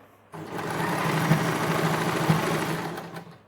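A sewing machine runs steadily while stitching the hem of a cotton suit, a continuous close mechanical whir with a regular stitching pulse, starting after a short pause and carrying on to the end with no talk.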